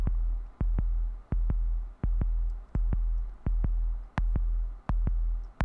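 A looped synthesizer note programmed in GarageBand for the Stranger Things theme pulses in a steady rhythm, each strong attack decaying before the next, loud and alone.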